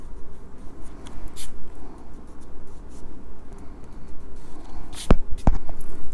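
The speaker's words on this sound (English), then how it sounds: "let's erase the extra lines" Pencil lines being rubbed out with an eraser on watercolor paper while painting a snail with leaves, a soft continuous scratchy rubbing close by, with a couple of sharper taps near the end.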